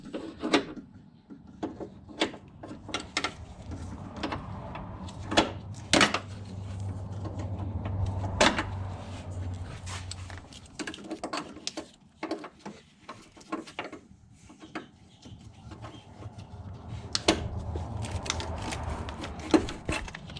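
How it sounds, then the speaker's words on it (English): Needle nose pliers prying metal clips off the clutch line of a 2006 Mazdaspeed 6, a series of sharp clicks and small metallic snaps in irregular bursts, close by with a low hum underneath and no talk. "Now I'm gonna grab a needle nose or some kind of plier to get these clips off"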